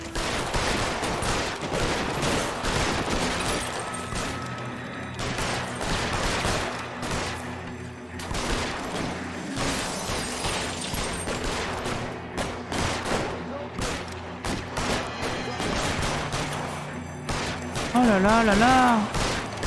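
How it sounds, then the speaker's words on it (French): Gunfire shootout in the video game L.A. Noire, sustained bursts of shots and rattling fire running throughout, loud and dense, with a voice exclaiming over it near the end. "Encore une fusillade?"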